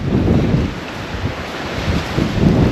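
Steady gusting wind in a park in Sylmar, Los Angeles, buffets the microphone with a low, rumbling roar that swells and eases throughout, with no voices.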